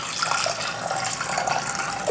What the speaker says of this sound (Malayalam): പിന്നെ ഇത് വേവിക്കുന്ന ഭാഗത്ത് നമുക്ക് വെള്ളം ഒഴിച്ചു കൊടുക്കാം